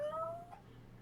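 A person imitates a cat's meow, a single short tonal call gliding upward and then trailing off, fairly faint, with no other talk.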